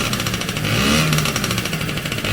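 Small engine of a Honda People motorized bicycle running and revving up, a close, buzzing mechanical drone that rises briefly in pitch and then settles.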